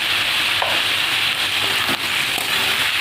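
Pumpkin and bitter gourd sizzle steadily in hot oil with salt and turmeric, a constant loud crackle with a few faint stirring knocks.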